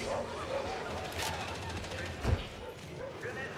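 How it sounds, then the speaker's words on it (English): Dogs bark in a Warhammer 40k Darktide match amid game noise, with gunfire mixed in and a loud burst partway through. "There's a lot of dogs coming."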